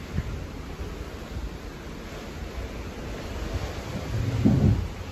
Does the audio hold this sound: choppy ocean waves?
yes